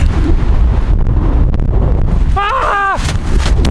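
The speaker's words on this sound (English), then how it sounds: "It's so windy today." Strong wind buffets a microphone outdoors in snowy northern cold, a loud continuous low rumble with gusty swells throughout, and a short voiced exclamation near the end.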